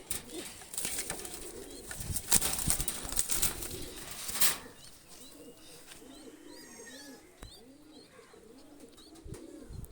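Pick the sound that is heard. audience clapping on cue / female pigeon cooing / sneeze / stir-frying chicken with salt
female pigeon cooing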